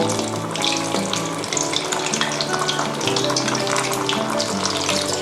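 Steady crackling sizzle of chicken frying in hot oil, dense and continuous, close by, with no talking.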